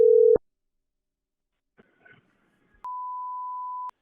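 Telephone line tones while calling a coin shop: a short low beep, a brief faint rustle, then a steady clear tone held for about a second, alone in near silence.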